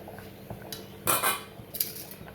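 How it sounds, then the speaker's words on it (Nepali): A metal ladle stirs moringa-leaf curry in a cooking pot, giving a few scattered clinks and scrapes, then a louder clattering stir near the middle and another brief scrape near the end. "डाडुले नै म चलाउँदैछु"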